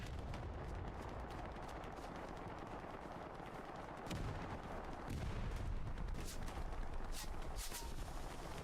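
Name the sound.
shotgun and gunfire in a trench warfare video game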